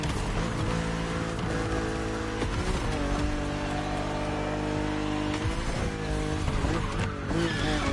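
BMW Z roadster racing in the video game The Crew Motorfest, a loud revving engine climbing and dropping through gear shifts with tire squeal and skidding, continuous throughout.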